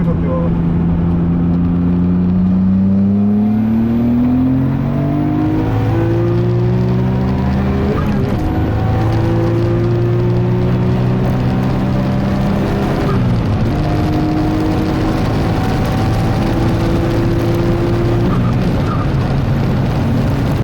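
A Nissan R34 GT-R runs at high speed on Fuji Speedway, its loud engine drone heard continuously from inside, climbing steadily in pitch and dropping briefly at two quick gear shifts.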